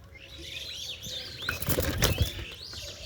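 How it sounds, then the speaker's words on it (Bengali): Pigeons, a male and female pair of quality breeding birds, flap their wings in a burst of fluttering that builds toward the end, with faint chirps in the background. "পায়রা দুটো দেখেন, কোয়ালিটিফুল কবুতর।"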